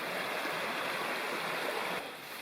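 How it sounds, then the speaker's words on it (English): Stream water rushes steadily at a river crossing as boots wade through it, a broad continuous wash close by, easing slightly near the end. "I'm just going to wade in and get my boots wet."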